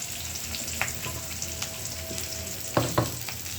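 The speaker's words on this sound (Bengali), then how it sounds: "পেঁয়াজটা আমি একটু লাল লাল করে ভেজে নিই।" Onion and green chili frying in a pan for dal chorchori, a close, steady sizzle broken by a handful of sharp spatula scrapes and taps, two of them near the end.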